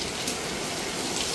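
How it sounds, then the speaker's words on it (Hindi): Heavy rain pours down in a steady, dense wash of sound, loud and continuous with no voices. "आवाज़ ही इतनी आ रही बारिश की।"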